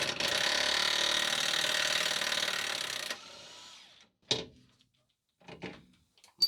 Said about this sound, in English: So I'm just going to whiz it off with gunny here.